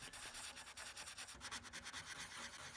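320-grit sandpaper rubs briskly over a used metal car body panel in steady repeated strokes, a close, soft scratchy hiss with no talking.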